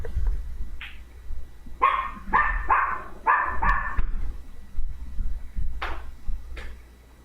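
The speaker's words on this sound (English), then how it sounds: "Sweet little thing, but I hate her barking." A small dog barks in a quick series of sharp, close yips, then pauses and lets out a couple more isolated barks indoors.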